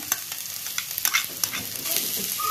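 Onion, ginger and garlic sauté in a pan for a potato and green peas gravy, giving a steady soft sizzle broken by scattered scraping stir strokes, close and alone with no voices.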